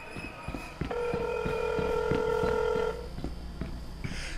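Phone dialing in the video game INFRA: a sustained electronic tone with several steady pitched layers holds for about two seconds, framed by a regular series of soft clicks before and after, with no talking.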